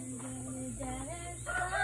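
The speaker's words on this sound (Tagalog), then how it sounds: "Mga chicken to." Chickens on a farmyard in Bohol cluck and crow at close range, a steady run of short calls with one rising crow-like cry near the end, over a constant low background hum.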